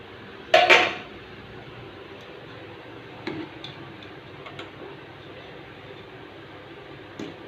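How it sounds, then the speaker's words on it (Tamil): Fenugreek kali being moved onto a plate with utensils: one loud clatter of metal on a dish near the start, then a few lighter scattered clinks and taps, close by over a quiet room hum. "நம்ம ஒரு தட்டில் மாற்றிக்கலாம்."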